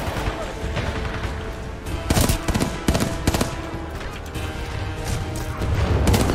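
Titanfall 2 gunfire: dense bursts of automatic weapon fire with sharp cracks and impacts, loud and continuous throughout, heavier in the middle, under game noise and some voices.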